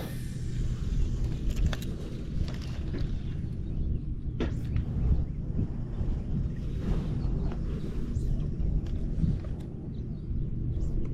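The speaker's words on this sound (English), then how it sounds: "can hear some thundering" Low, distant thunder rumbles continuously, a deep rolling murmur with faint outdoor background noise and no talking.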